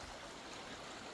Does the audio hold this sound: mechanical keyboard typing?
no